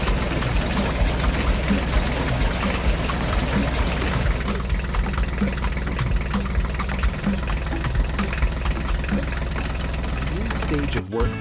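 A farm machine runs steadily while discharging chopped corn onto a silage pile, making a loud continuous engine drone with a dense rushing, clattering texture that holds unbroken until a brief cutoff at the end.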